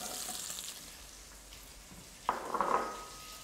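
Peeled pickling onions go into a pot of golden frying pancetta, setting off a sudden louder sizzle partway through over a steady background of frying, with no talk.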